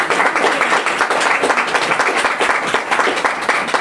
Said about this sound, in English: It's not easy for Karen, so she deserved a round of applause